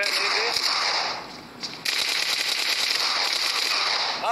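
Shotgun fire in the mobile battle-royale game PUBG Mobile: rapid, sharp blasts of gunfire in dense bursts, filling the mix continuously with a brief lull midway.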